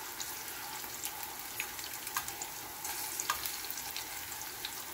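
Fish fillet and mushrooms sautéing in butter in a pan, a steady close sizzle with light crackle and faint scraping throughout, no talk.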